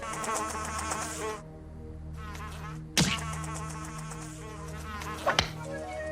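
A cartoon fly buzzes steadily with a high, whining drone in a Hey Arnold! dojo training scene, broken by a couple of sharp thumps.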